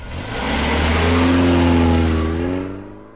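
A taxi pulls away and accelerates, its engine note swelling to a loud, close roar and rising in pitch before fading out over about three seconds, with no voices.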